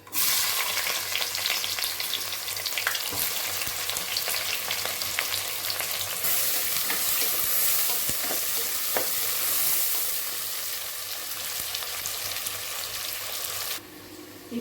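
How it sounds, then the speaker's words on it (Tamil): Chopped onions fry with cardamom in hot oil for chicken biryani, a steady bright sizzle running throughout with occasional stirring clinks, softening slightly near the end. "இந்த ஏலக்காய் போட்டு கம கமன்னு வாசம் வரும்போது நம்ம வெட்டி வச்சுருக்க வெங்காயத்தை போட்டுக்கலாம்"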